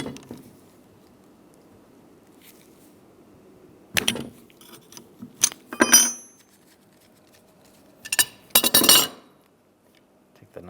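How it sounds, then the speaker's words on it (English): Metal clinks and jangles from a 13mm wrench and a large adjustable wrench loosening the nut on a 2007-2013 Chevy Silverado windshield wiper transmission, sparse short bursts over a quiet background. "Using a 13mm wrench, get under here and loosen up the nut."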